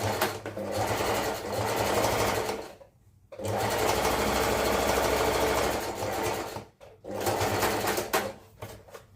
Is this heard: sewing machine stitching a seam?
yes